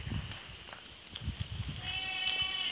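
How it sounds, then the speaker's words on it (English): Goats bleat on a farm, a few short nasal calls scattered over soft rustling and hoof shuffles, fairly close but not loud. "The only boy goat."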